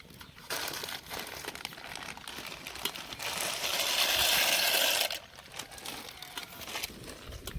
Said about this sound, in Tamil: இப்போ பாஸ்தா உள்ளே போட்டுக்கலாம்